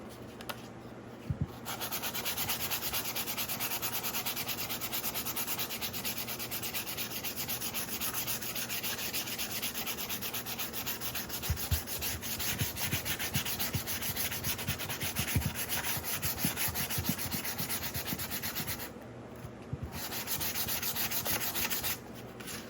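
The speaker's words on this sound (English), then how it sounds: "So I'm going to continue with the sanding." Steady, continuous scratchy rubbing of sandpaper on a hard clay cone, close and even, with a couple of brief pauses.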